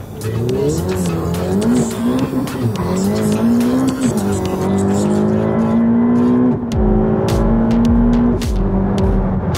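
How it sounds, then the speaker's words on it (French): A Nissan GT-R engine pulls hard and loud from inside the car, its pitch rising through the gears with brief dips at shifts, a steady powerful drone throughout. "Ah, le bruit de la GTR."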